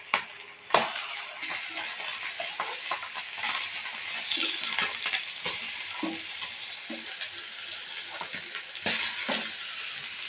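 Seer fish (vanjaram) frying in a pan, with a loud, dense, continuous sizzle and occasional knocks and scrapes of a spatula, heard up close for the whole stretch with no talking.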